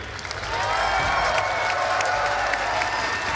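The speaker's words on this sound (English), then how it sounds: "give a big round of applause to Outback." A live crowd at a Rainbow Six Siege operator reveal event for Gridlock and Mozzie applauds and cheers. The clapping and whooping swell quickly into a loud, sustained roar that fills the room with no one speaking over it.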